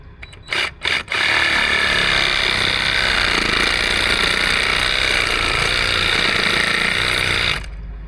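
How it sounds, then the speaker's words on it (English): A reciprocating saw cuts through a buried underground line, a loud, continuous rapid buzzing that starts after a few short bursts and runs for several seconds before stopping abruptly. "I'm assuming a Sawzall will work."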